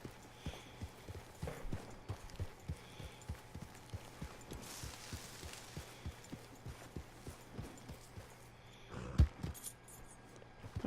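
Horse hooves clip-clop steadily in Red Dead Redemption 2, a run of regular, fairly close hoofbeats with a faint jangle of tack and a louder thump near the end, with no voices over them.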